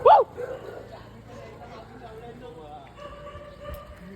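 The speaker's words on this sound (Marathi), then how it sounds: "गाईस आता सगळे कुत्रे येतील बघा." A dog gives a single sharp bark at the start, followed by faint yips and whimpers from dogs on a village street, with people talking in the background.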